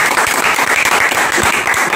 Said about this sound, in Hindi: इनके लिए फिर से एक ताली हो जाए।